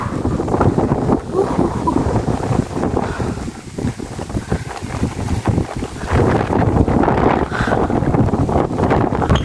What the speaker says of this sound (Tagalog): Guys, sobrang lakas ng hangin dito.